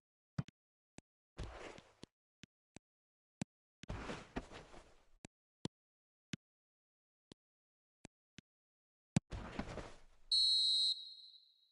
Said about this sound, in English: Added time is up, and there goes the whistle.